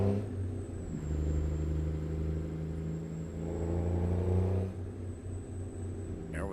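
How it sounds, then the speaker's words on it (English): Simulated Kenworth T660 truck fitted with a DD60 diesel engine mod in a driving game, cranking to life then idling into a deep, steady rumble that swells as the rig pulls away, loud and continuous with no voices. "Let's fire up this DD60 from C Mods. And let's get this Kenworth T660 rolling down the road."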